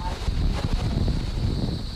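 Strong, steady howling typhoon wind in Bataan, Philippines, buffets the microphone with a constant low roar, blustery gusts rushing without pause.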